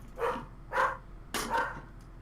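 A dog barks in four sharp, evenly spaced yaps, close and fairly loud, with quiet gaps between them and no talking.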